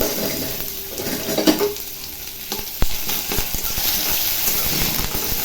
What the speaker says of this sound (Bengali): লঙ্কা, শুকনো লঙ্কা আর জিরে। আর একটু আদা বাটা দিলাম।